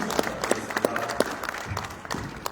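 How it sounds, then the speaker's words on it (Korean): A forum audience claps for an association chairman, with a scattered burst of individual claps and some crowd murmur, fairly close and moderately loud. "최석규 회장님께 다시 한번 큰 박수 부탁드리겠습니다"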